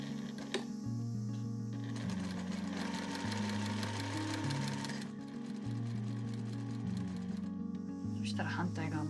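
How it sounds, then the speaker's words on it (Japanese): A sewing machine stitches a reversible bamboo tote bag, running steadily and close with a humming motor and rapid needle clatter. The pitch shifts as the speed changes, and there are a couple of brief pauses. "この切り込みのところに針を刺したら同じようにして30縫いして縫っていきます。"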